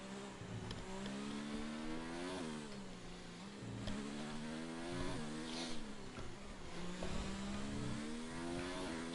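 Race car engine from a racing video game at Abu Dhabi, held at high revs on a hot lap with steady harmonic whine and repeated shifts and pitch dips, loud and continuous with no talking.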